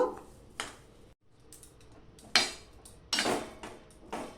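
A metal plate is handled in a kitchen while making sondesh from milk and jaggery, giving several sharp close clanks and scrapes separated by short pauses.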